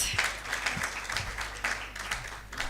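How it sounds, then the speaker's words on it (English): A gathering of grantees and partners gives a round of applause, a dense, continuous patter of many hands clapping close by with no voices over it. "Can you give them another round of applause?"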